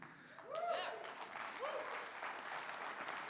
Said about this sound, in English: they're not clapping for me